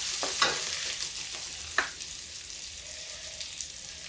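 Onion and garlic hit hot oil in a kadai already holding cumin seeds and two chilies, giving a steady crackling sizzle with a few sharp pops and a clatter near the start, with no talk.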